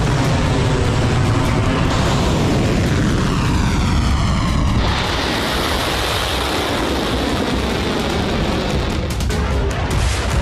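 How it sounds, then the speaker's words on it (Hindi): Israeli fighter jets over Lebanon, a loud continuous roar of jet engines that fills the clip, shifting in tone midway as the aircraft pass. "इजरायली फाइटर जेट लेबनान में लगातार बारूद की बारिश कर रहे हैं।"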